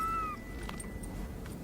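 A cat meows briefly in a film scene, a short near call at the start followed by quiet room tone with faint soft clicks.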